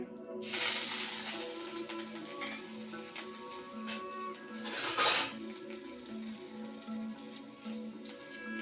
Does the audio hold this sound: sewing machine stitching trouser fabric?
no